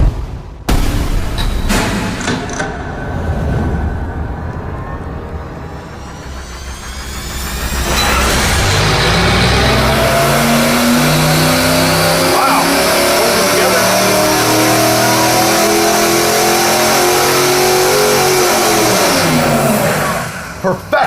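A high performance engine on a dyno, revving hard and loud, with a rising and falling roar and a long sustained pull at high revs; people talk briefly early on.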